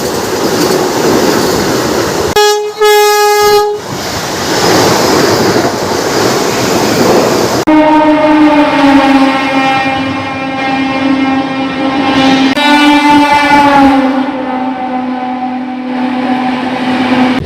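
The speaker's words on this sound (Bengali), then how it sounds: "ট্র্যাকের সাউন্ডটা শুনুন বাজে একবার।" A Santragachi–Jhargram MEMU train runs loudly along the tracks, with steady rumbling wheel noise and a sustained horn-like tonal blare, close by and without voices.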